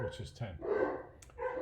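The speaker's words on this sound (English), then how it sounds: "And I apologize for the dogs barking." Dogs bark and yip loudly in short repeated bursts nearby while a person keeps talking over them.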